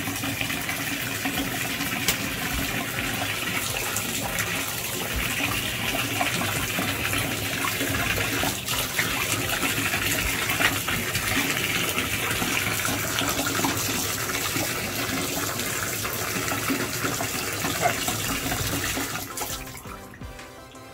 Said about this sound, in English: run water to make sure that it's not clogged up